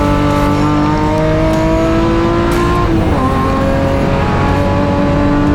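A BMW race car in a BMW M Performance Parts race series screams past on track, its loud engine note rising then dropping sharply as it goes by, with constant close, roaring engine noise throughout.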